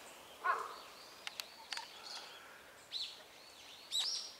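Distant bird calls ring out intermittently overhead against a faint outdoor hiss, several short harsh cries spaced a second or so apart.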